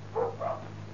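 A pair of short dog barks from a Turkish rural film scene, two distinct yelps about a quarter second apart, moderately close over a steady low hum, with no talking.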